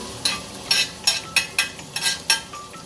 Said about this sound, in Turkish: Yağımız kızmıştır diye düşünüyorum. Soğanlarımızı önce atıyoruz.